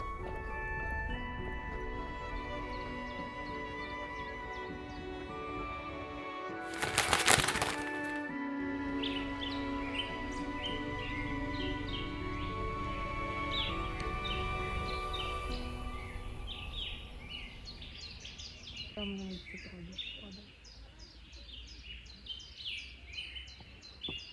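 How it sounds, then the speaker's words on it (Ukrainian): Spring birdsong in a botanical garden in Prague, with many small bird calls and chirps scattered through a busy outdoor ambience. A sharp crack or bang stands out briefly near the start, and the chirping grows more distinct toward the end. "Так гарно чути весняний спів пташок."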